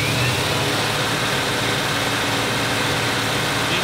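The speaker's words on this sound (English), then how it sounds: "That's misfiring. The fuel won't do that. It's electrical." Engine of a 1957 Ford Ranchero running with an electrical misfire, a steady, loud, rough low rumble that continues without a break, with no voices.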